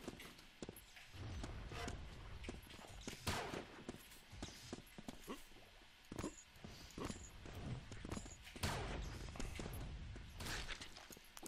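Loud footsteps in the Doombringer video game, a busy run of sharp, clattering steps and impacts at close range, irregular and crowded together over a constant noisy bed, with no talk.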